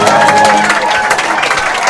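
A crowd at a high school football game between Austin High and Bowie at House Park on senior night cheers and claps in a broad, continuous roar, with a commentator's voice running over it.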